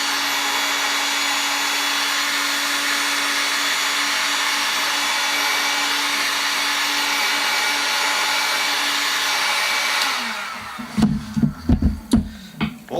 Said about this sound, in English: the wrap does get very hot when you heat it up with the heat gun